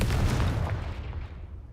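A Confringo fire spell goes off in a Harry Potter video game as a loud, booming blast with a deep low rumble that fades out over under two seconds.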